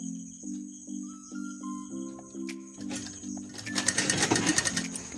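A sewing machine stitches fabric for pleats, its needle chattering in a quick, even rhythm. The stitching runs steadily and grows louder and busier toward the end, with no voices over it.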